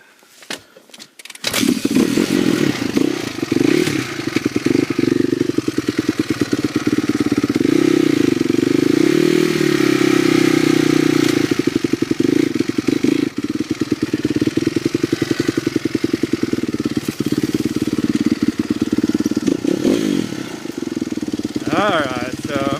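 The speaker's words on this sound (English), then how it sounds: "Alright, so I'm going to cut the motor by neutral." A dirt bike's engine on a high-speed downhill run holds a loud, continuous motor drone with rough clatter for most of the stretch, after a brief quiet start.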